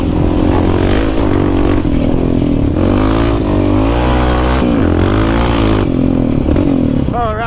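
A Yamaha Raptor 700 ATV engine roars loud and close while it is ridden on a rocky trail, its pitch rising and falling steadily with throttle changes, and wind buffeting the whole time.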